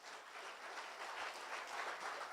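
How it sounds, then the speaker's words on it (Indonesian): A church congregation claps together in a sermon gathering, giving a soft, distant, continuous wash of many hands with no voices over it for a couple of seconds. "Tepuk tangannya kurang persiapan"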